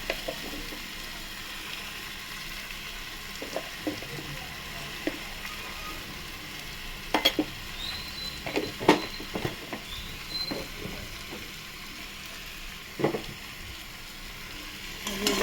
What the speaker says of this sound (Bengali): দিলাম, দিয়ে এটা একটু নাড়বো